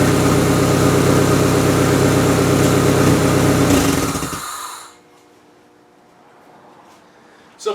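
A 1999 Toyota Camry demolition derby car with a header fitted idles loudly and steadily for about four seconds, then drops off abruptly to near silence with faint background noise.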